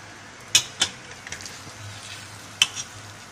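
Halwa mixed with coconut powder being stirred in ghee, a few sharp spoon scrapes against the pan over a low hiss, with quiet gaps between strokes.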